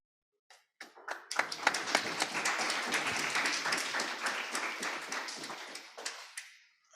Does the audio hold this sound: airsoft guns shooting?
no